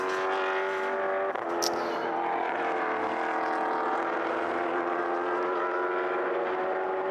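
Endurance prototype race cars at the Portimão circuit in a six-hour race, a continuous high-pitched engine drone with a steady loud tone, a brief sharper whine passing early on.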